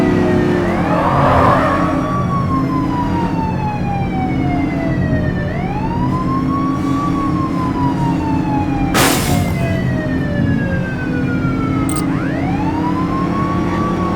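Police car sirens wail during a pursuit in The Precinct, a loud continuous rising-and-falling siren sweeping over heavy engine rumble, with repeated wail cycles close up and no talk.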